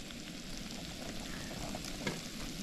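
Sauce with peppers and onions sizzles steadily in a pan at an outdoor wild camp, a constant, close, fairly quiet frying hiss with a few small pops.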